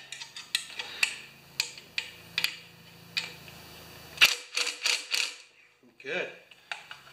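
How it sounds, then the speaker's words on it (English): A 10 mm wrench tightens a bolt on a 196cc earth compactor, sharp metallic ticks and clicks coming in irregular bursts, close and fairly quiet, followed by a brief soft rustle. "Grab my little 10 millimeter wrench to make sure it's going to be tight."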